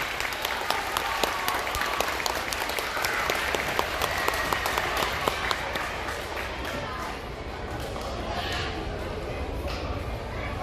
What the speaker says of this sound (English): Let's go and give them a round of applause.